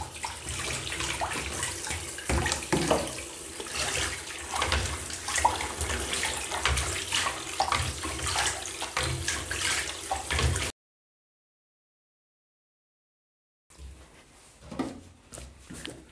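Running tap water pours steadily and close by while black-and-white film developing parts are rinsed, a loud rushing splash that stops abruptly, then returns fainter after a short silence.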